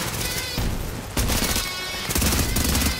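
Heavy gunfire in a gunfight in The Division video game, with dense automatic bursts and rapid overlapping shots in loud waves that barely pause across the whole span.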